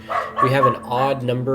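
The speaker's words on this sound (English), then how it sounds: "sorry for my dog" A house dog gives a few quick barks that blend with someone speaking over them, all within a second and a half.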